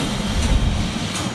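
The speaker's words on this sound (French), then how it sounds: "On est monté dans le tram 28, qui est une institution ici à Lisbonne." Lisbon's tram 28 rumbling through the winding streets of the Alfama district, a steady loud low rolling rumble of wheels on rails with faint clatter, no voices.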